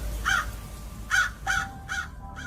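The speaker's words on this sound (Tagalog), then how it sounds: "Umalis kayo mga pesteng uwak kayo!" Five harsh caws ring out in an irregular sequence, each a short rasping call from a crow, fairly close with a faint background hum.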